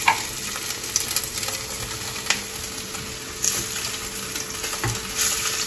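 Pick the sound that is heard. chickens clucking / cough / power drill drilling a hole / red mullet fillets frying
red mullet fillets frying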